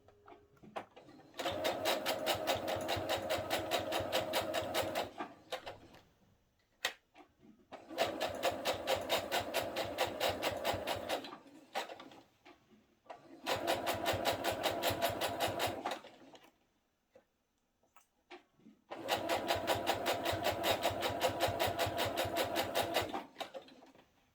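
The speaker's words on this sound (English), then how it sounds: "So I'm going to stitch this down." Sewing machine stitching down a partial placket on a garment, running in four steady bursts of rapid mechanical whirring, each several seconds long, separated by short pauses.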